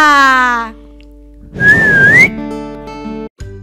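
A person whistles a single sustained, gently wavering note lasting about a second to call someone, loud and close, set between snippets of backing music.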